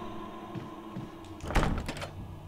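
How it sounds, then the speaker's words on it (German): Locked door in Resident Evil HD Remaster being tried, a few soft knocks followed by a louder rattling clatter of the handle and frame, fairly close and brief in a quiet room. "Eine Tür, die von der anderen Seite verschlossen ist."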